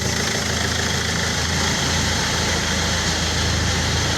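A Land Rover Freelander engine idling slightly lumpily while smoking, a loud, steady close-up rumble with a faint uneven pulse, no voices.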